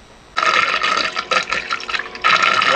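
Fresh water rushes into a sailboat's sink from a running pump during a bleach sanitizing flush, a steady loud gush that starts after a brief quiet moment and keeps going with small surges.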